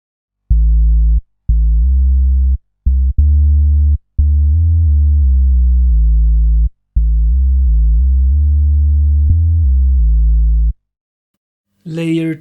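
Layered synth bass plays a sequence of deep sustained notes with short gaps, a clean tonal pattern repeating for about ten seconds before a brief voice comes in at the end.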